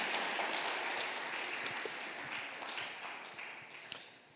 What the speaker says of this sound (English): Give God a mighty hand clap